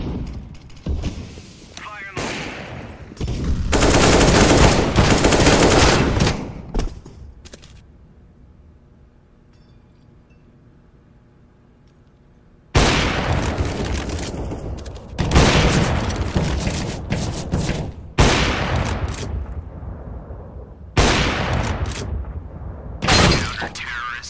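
Gunfire in a Counter-Strike: Global Offensive match, with heavy bursts of shots and booms in loud clusters separated by a quiet stretch, while players talk over the action.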